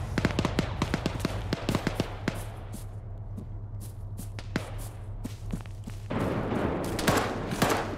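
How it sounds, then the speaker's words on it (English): Dense gunfire in the Arma 3 war game: rapid cracking shots in uneven bursts, close and loud at the start, thinning to scattered reports, then building again near the end. "Quit shooting at us"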